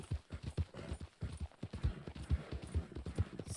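Horse hooves clip-clop at a steady trotting rhythm, close and clear, as a rider travels toward Blackwater in Red Dead Redemption 2, with no voices over the beat.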